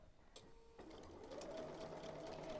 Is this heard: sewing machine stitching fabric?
yes